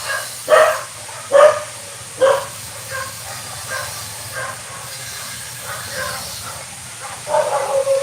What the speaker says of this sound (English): I gotta yell at my dog.